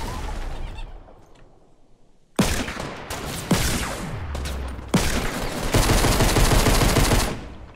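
Bursts of gunfire in the video game Fortnite, with pistol shots and rapid volleys from a fight on stairs and a hilltop, loud and dense after a quieter opening, with no talk.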